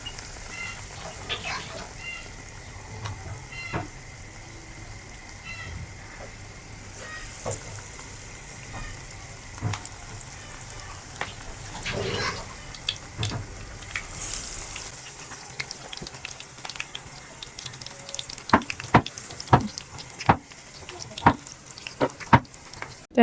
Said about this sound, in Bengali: তো এখন আলুর চপগুলো ভেজে নিচ্ছি।